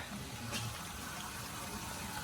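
Continuous rushing water pours steadily through an engine block during a radiator flush, entering through the thermostat, a dense, even gush with no pauses and no voices.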